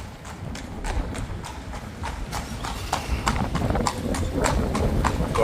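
Horse hooves clip-clop along a town street in Shildon in a steady, regular rhythm. The sound is close and grows slightly louder as the horse approaches, with faint street ambience underneath.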